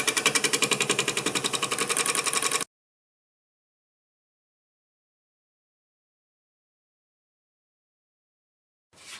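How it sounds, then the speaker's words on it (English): A negative rake scraper cuts a rugged sweet gum bowl on a wood lathe, giving a rapid, steady chattering buzz for a couple of seconds before abruptly stopping into silence, then briefly resuming at the end. "I'm going to take my negative rake scraper, clean this up"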